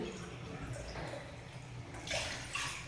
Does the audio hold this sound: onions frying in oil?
no